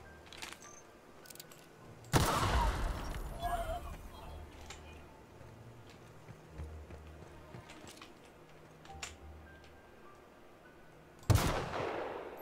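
Gunfire in the video game The Outer Worlds: a loud burst of shots near two seconds and another sharp shot near eleven seconds, with quieter game sounds in between.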